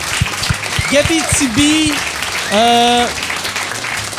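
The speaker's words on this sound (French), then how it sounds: "J'aimerais ça qu'on lui donne une bonne main d'applaudissement." A crowd at a live French-language talk show bursts into steady applause, clapping carrying under loud voices and a short sung phrase.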